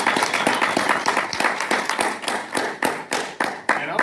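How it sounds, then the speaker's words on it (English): An audience at a panel discussion claps steadily and fairly loudly throughout, a dense wash of overlapping hand claps with a few sharper individual claps standing out toward the end. "I would like to clap for David Barton."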